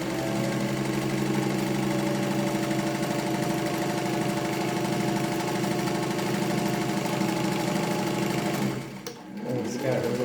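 A Singer 15-91 sewing machine stitching through seven layers of marine vinyl hums with a steady rapid mechanical chatter up close, then slows and stops near the end.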